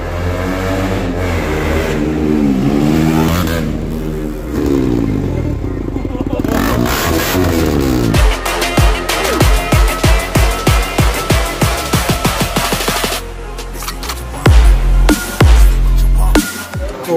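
A KTM motorcycle fitted with a modified exhaust rides up and revs, the engine note rising and falling before a burst of sharp, rapid blips and pops as it arrives close by.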